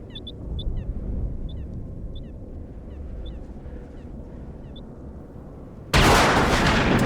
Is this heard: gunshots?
yes